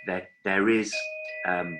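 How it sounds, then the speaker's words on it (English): A two-tone doorbell chime rings while a person keeps talking over it, the tones clear and sustained between words. "You can hear that doorbell, it's downstairs trying to get in"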